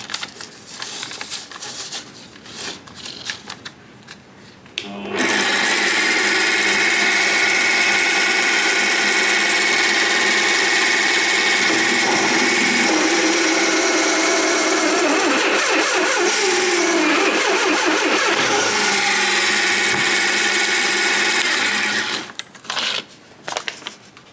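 A drill spinning a bit through a hole in HIPS plastic sheet, a loud sustained whine with a steady tonal hum lasting about seventeen seconds, starting and stopping abruptly between quieter handling noises.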